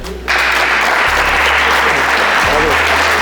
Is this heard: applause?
yes